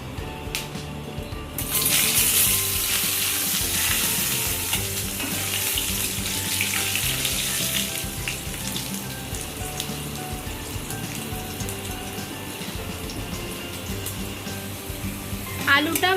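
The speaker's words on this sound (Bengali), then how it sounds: "এবারে আলুগুলো ভেজে নেব।" Potatoes fry in hot mustard oil with bay leaf and dried red chilli while jackfruit curry is being made. A dense, steady sizzle and crackle begins after a brief quiet start and carries on without pause.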